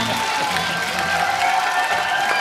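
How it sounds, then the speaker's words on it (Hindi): A studio audience on a Hindi TV comedy talk show breaks into applause and cheering, a dense wash of clapping and crowd noise lasting a couple of seconds. "जोरदार तालियां स्वागत कीजिए।"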